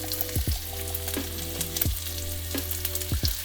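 Jumbo shrimp sizzle in a pan of oil and butter with a steady crackling hiss, broken by a few scraping stirs of a utensil against the pan, with no talking.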